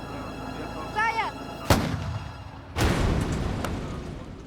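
South African Army artillery firing: a voice calls out briefly, then two loud, sharp cannon blasts with rumbling echoes follow about a second apart, outdoors.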